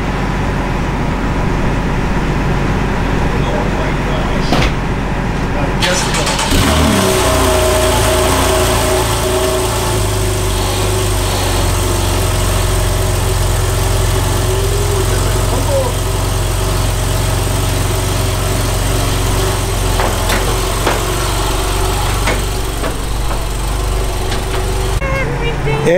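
A Porsche 911 Carrera 4S exhaust starts with a sudden revving burst, then settles into a loud, steady idle that rumbles continuously, with people talking excitedly over it.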